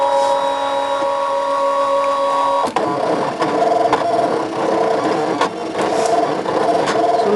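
Brother ScanNCut machine cutting card, a close mechanical whir with tonal motor whine, then a sharp shift into choppier buzzing and clicking as the blade carriage moves back and forth.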